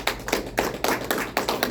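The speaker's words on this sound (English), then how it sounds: "let's give Brother Ansar a round of applause" A crowd at a religious gathering claps in a steady, rhythmic beat, about seven sharp unified claps at an even pace, close and clear with no talk over them.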